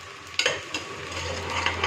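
Onions frying in oil in a pan as part of a mutton and broad bean curry, with a steady sizzle and a few stirring scrapes and clinks, close and clear.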